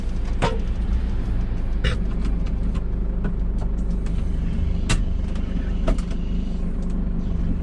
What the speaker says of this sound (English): That's the noise of power steering